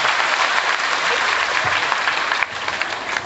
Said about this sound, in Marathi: सगळं मोबाईल ठेवा आणि मग टाळ्या वाजवा